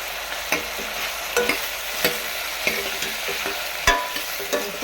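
A tomato and spice mixture with salt fries in a pan over a constant sizzle, while a spoon clacks and scrapes through it in regular strokes about once a second.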